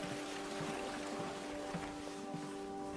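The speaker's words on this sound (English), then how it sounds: "this is this amazing water system running underneath me" A stream runs underneath a boardwalk on a day walk near Queenstown, giving a steady soft trickling and gurgling wash heard alone.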